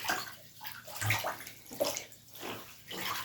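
A delicate dress being rinsed by hand in a tub of water, with soft, quiet sloshing and splashing in irregular pulses, close by and faint.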